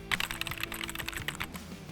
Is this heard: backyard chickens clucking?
no